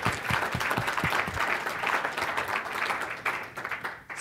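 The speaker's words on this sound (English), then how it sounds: "Can we get a round of applause for" Conference attendees at an energy project session clap in a steady round of applause, a few sharper individual claps standing out at first, fading slightly near the end.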